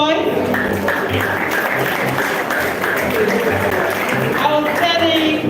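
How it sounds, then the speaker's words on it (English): An audience applauds schoolboys from Ibadan Boys High School at an honoree event. Dense, steady clapping runs the whole time, partly under a voice. "A round of applause for these brilliant children."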